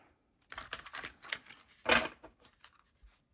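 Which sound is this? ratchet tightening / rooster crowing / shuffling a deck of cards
shuffling a deck of cards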